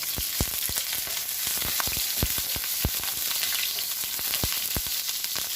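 Onions fry in hot blended oil in a pan, giving a steady, close hiss with frequent sharp pops and crackles throughout.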